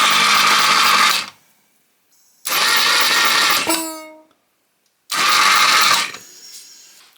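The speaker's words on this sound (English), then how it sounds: "So it's cranking, but there's nae spark." The starter on a 1981 BMW R80 airhead motorcycle cranks without spark in three loud, close, whirring bursts of about a second each, separated by silence, with a short ringing metallic whine winding down after the second burst.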